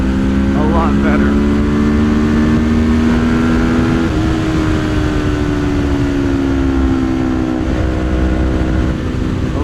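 A 2025 Kawasaki Ninja 500 SE engine drones loudly and steadily, with its pitch climbing slightly as it pulls and a continuous roar with wind noise.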